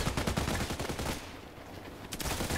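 Gunfire in an online shooter game: rapid bursts of automatic shots rattle loudly, pause briefly, then resume with a few more close, sharp reports.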